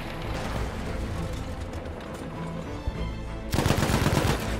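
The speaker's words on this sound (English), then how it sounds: "There's a machine gunner right there." Sustained automatic machine gun fire in the Battlefield V video game, a dense continuous rattle throughout, swelling louder and sharper near the end with no talking.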